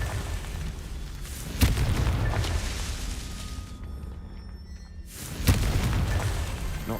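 A Confringo blasting spell goes off in Hogwarts Legacy, a loud booming burst near the start, then a second sharp explosive boom about four seconds later, with a rumbling game soundscape between them.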